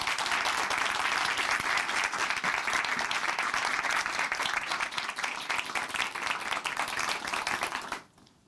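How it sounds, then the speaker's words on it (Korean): A church audience gives a sustained round of steady applause to welcome a woman from Chuncheon Hanmaum Church, loud and even before it fades out abruptly near the end. "박수로 맞이해 주세요"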